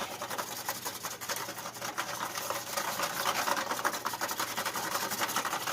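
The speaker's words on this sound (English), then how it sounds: "Gonna take my whisk and just mix this up real good." A whisk beats batter for a cheesy chicken rice bake in a bowl, making fast, rhythmic scraping and patter that stays continuous and close, swelling slightly as the mixing speeds up, with no talking.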